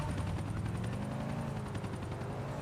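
Helicopter flying in GTA 4, a loud, steady rotor thrum with rapid chopping pulses that holds close and unbroken throughout.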